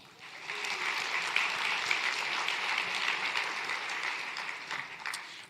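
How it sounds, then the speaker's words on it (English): Steady audience applause fills a summit plenary on better buildings and plants, a broad wash of clapping that holds at an even level for several seconds before tapering at the end, with no voices over it. "Let's give all of our allies a round of applause as well."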